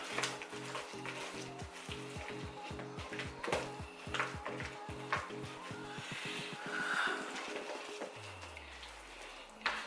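Taro being grated by hand to make Samoan fa'ausi, a steady series of rhythmic rasping strokes, close and fairly loud, ending with a brief sliding scrape.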